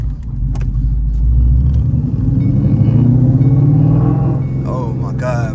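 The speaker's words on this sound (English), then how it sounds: "I'll do some downshifts for y'all too." A 2014 Ford Mustang GT V8 with long tube headers rumbles loudly while downshifting, its deep exhaust note rising and settling close by, with brief voices over the engine.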